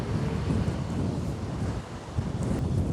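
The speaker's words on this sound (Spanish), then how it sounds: "Miren lo picado que está el río, del viento que hay." Strong wind buffets the microphone beside the choppy Uruguay river at Fray Bentos, a steady loud rumbling roar throughout with no talking.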